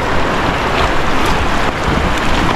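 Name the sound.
strongly flowing river water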